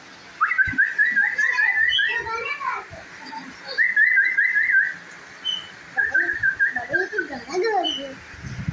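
A person whistles short trilling phrases near the microphone while a baby bulbul answers with soft chirps and tweets, the two alternating in brief bursts over a quiet background.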